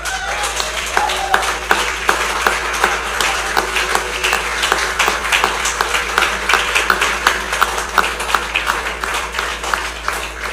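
At a choir concert, an audience applauds a choir group with steady, dense clapping that continues evenly throughout.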